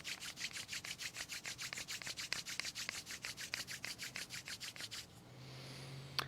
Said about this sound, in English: Rub the palms of your hands together and rub the soles of your feet together vigorously